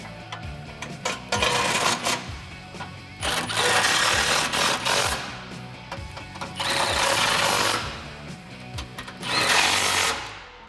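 An impact wrench with an 18 mm socket drives bolts on a Jeep Wrangler JK during a transfer case shift cable install, sounding in several loud, rattling bursts of a few seconds each with short pauses between.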